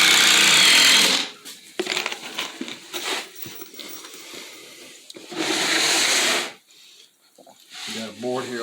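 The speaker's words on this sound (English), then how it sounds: "this is an impact driver" An impact driver runs in loud, hammering bursts, stopping and starting between screws into wood during a mobile home bathroom remodel, with short stretches of talk and handling noise in the gaps.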